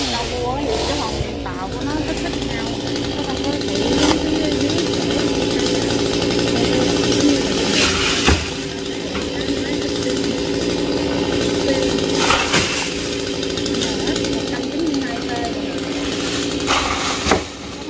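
A chainsaw runs continuously while cutting down a row of king palm trees outdoors, a steady buzzing drone with a few sharper bursts, heard alone at moderate distance.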